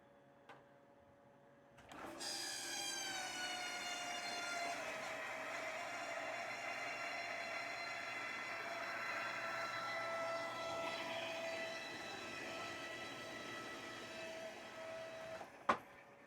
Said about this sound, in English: It's a good idea to connect the hose before you turn on the pump.